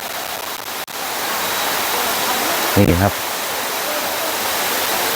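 Phu Pha Sawan waterfall in Phang Nga province, Thailand, flows with a steady, loud rushing roar throughout. Someone speaks briefly over the water.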